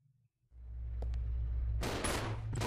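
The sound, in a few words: gunfire at zombies in video game Resident Evil Zero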